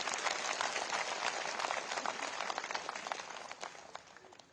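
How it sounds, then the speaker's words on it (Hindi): Applause from a political rally audience in Himachal honouring soldiers, a dense broadband patter of many hands clapping steadily throughout, fairly loud and slowly tapering toward the end, with no talk over it. "उनके सम्मान में एक बार तालियों से उनका अभिनंदन किया जाना चाहिए"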